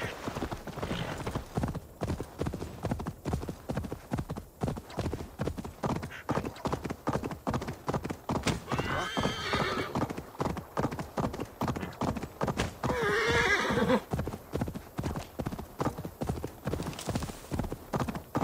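Steady, rapid clip-clop of horse hooves in Assassin's Creed Valhalla runs throughout, loud and close, with a brief whinny-like burst midway.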